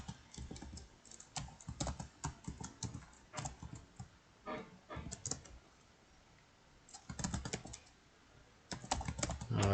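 Keystrokes on a computer keyboard as a password is entered, a quick irregular run of close, crisp clicks in bursts separated by short pauses, with no talking.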